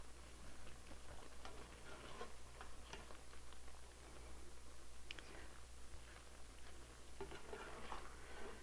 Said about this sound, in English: And we just want to stir those around now and then, like this.